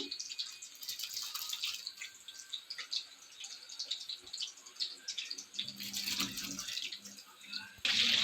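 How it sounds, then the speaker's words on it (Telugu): Rice is poured into boiling water for egg dum biryani, a soft bubbling and trickling that ends in a louder splash. "ఎసరైతే మంచిగా కాగుతుందండి రైస్ యాడ్ చేస్తున్నాను ఇప్పుడు నేను"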